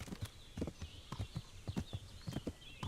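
Hooves of a horse in the video game Kingdom Come clop at a walking pace, a steady run of close, crisp strikes with no other sound over them.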